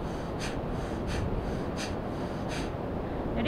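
Forceful nasal exhalations of kapalbhati pranayama, five short, sharp puffs of air through the nose at a steady rhythm about two thirds of a second apart, recorded close and alone over a low background hiss.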